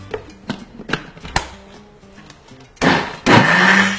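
Baghrir batter for Moroccan yeasted pancakes being beaten in a few sharp rhythmic knocks, then loud continuous whirring bursts that dominate the end.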